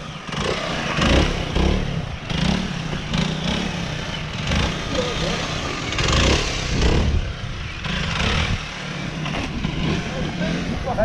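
A Yamaha Blaster two-stroke quad's engine runs and revs nearby, a buzzy, rising and falling drone with voices talking over it throughout.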